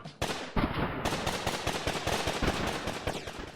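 Revolver gunshots from the video game The Last Way, a rapid burst of sharp cracks fired in quick succession with a dense, echoing rattle and no talk.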